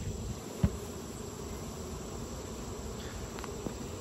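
Honey bees crowd a hive while feeding on peppermints, a faint, steady buzzing hum with a couple of soft knocks.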